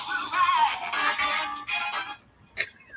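A Twitch raid alert chimes from a phone in a series of bright tonal bursts for about two seconds, then one last short blip after a pause.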